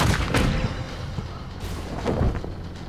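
Ship cannons firing from the starboard side in the naval video game Blackwake: deep, heavy booms rolling out over a constant low rumble, with a couple of distinct blasts and their lingering echo, loud and with no talk over them.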